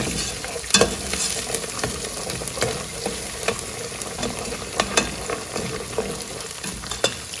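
Powdered spices fry in a pot for beef paya curry, giving a steady close sizzle punctuated by regular taps and scrapes of a stirring spoon.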